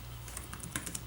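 Typing on a Lenovo ThinkPad X1 Yoga Gen 6 laptop keyboard, a quick run of soft, light key clicks close up, with no talking.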